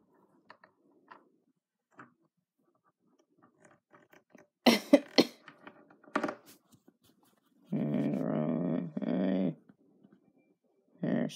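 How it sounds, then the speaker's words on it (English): A few sharp, raspy coughs burst out close by, followed later by a longer rough throaty sound and one more short cough amid quiet gaps. "Still coughing, huh?"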